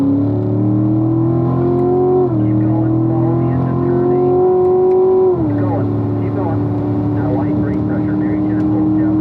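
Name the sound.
car accelerating on race track at full throttle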